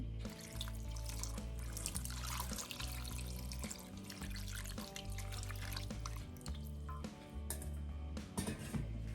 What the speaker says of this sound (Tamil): அதோட கடைசியாக தேங்காய் பாலையும் விடுறேன்